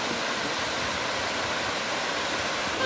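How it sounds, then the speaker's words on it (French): Waterfall at the foot of a cascade on a hiking trail, roaring as steady broadband rushing water, loud and continuous with no voices. "là nous sommes au pied de la cascade"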